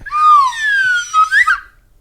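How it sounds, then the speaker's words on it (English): A slide whistle, loud and close, plays sweeping pitch glides, dipping and rising across about a second and a half before a short upward flourish. "It's a slide whistle."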